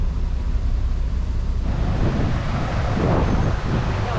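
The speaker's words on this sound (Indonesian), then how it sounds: "Wah, anginnya lumayan." Strong wind buffets the microphone at a beach river mouth, a loud, steady low roar that swells after a couple of seconds, with surf faintly mixed in.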